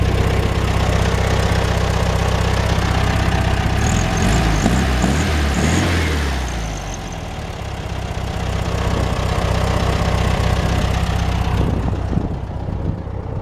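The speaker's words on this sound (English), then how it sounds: "Really nice, healthy engine" A 1963 VW Beetle ragtop's air-cooled engine idles steadily up close, a continuous low rumble with a brief dip in level midway before settling back to a smooth, even idle.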